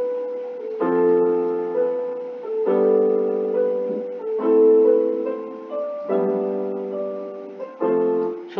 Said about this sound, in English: With chords, it sounds like this.